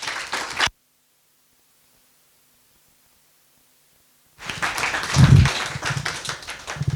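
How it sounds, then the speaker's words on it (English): An audience applauds at a poetry reading event. A short burst of clapping cuts off into silence, then a fuller round of applause rises and carries on, heard from within the room. "Please join me in giving them a very big round of applause."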